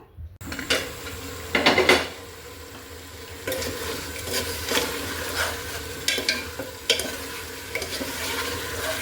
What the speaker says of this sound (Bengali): এই জন্যে কিন্তু আমি ভালো করে কষিয়ে নিচ্ছি।